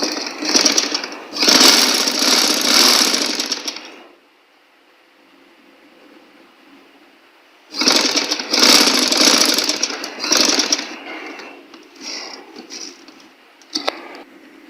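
A sewing machine stitches a fabric cover for the Holy Quran in two loud, close bursts of fast whirring, each about four seconds long, separated by a quiet pause with a faint hum. Lighter mechanical clicks follow near the end.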